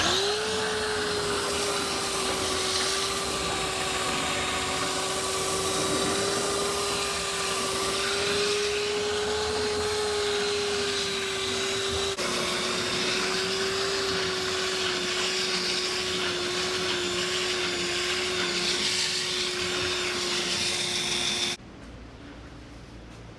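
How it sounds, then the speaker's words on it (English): A cheap belt sander works on a fiberglass skiff hull, giving a steady, loud motor whine with a constant abrasive hiss that holds for about twenty seconds before cutting off abruptly near the end. "this is the cheapest belt sander out there"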